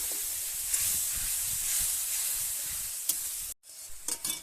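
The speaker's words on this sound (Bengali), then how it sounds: "মশলা ধোয়া জলটা দিয়ে দিলাম।" Water used to rinse spices hits hot frying masala in oil, giving a loud, steady hiss of sizzling that runs for about three seconds, then cuts out abruptly before softer bubbling and stirring return.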